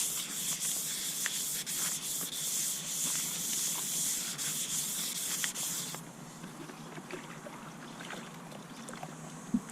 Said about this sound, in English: strip all of the oxidized layer off, and then just keep scratching away